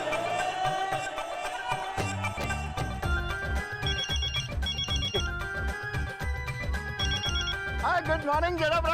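A telephone rings with a loud melodic ringtone over music in a Hindi TV comedy scene, repeating a bright tune steadily throughout with a dense, busy background.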